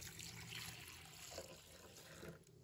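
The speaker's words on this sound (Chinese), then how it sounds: "再倒入清水" Clean water runs and splashes into a bowl of raw shrimp in a kitchen, a soft, continuous watery rush at low volume, heard alone with no talk.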